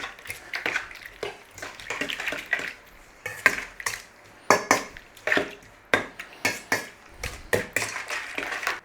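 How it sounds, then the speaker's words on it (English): Dried fruit, tea and sugar being stirred together in a bowl, a close series of rhythmic scraping strokes and clinks of the spoon against the bowl, with no talk. "Now give it a little mix. Just break up those clumps of sugar."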